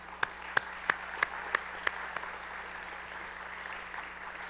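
An audience at an evening event claps: a handful of evenly spaced, distinct claps that quickly thin out and fade into room noise.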